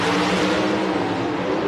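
Onboard a Dodge drag racing car during a second-round elimination run, a loud, steady engine roar with a whirring drone fills the whole moment, close and unbroken, with no talk.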